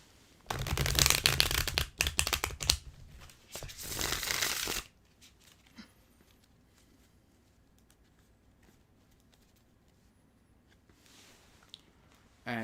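A deck of tarot cards being shuffled during a livestream reading, several close, crisp bursts of riffling in the first few seconds, then near quiet with faint handling and a brief rustle near the end.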